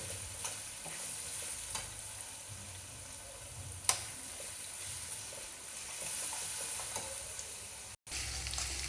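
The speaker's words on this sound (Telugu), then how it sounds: "చక్కగా వేగుతుంది చూసారు పోపు." Steady sizzling of spices frying in hot oil, with occasional stirring clinks and a brief cut near the end; no one speaks.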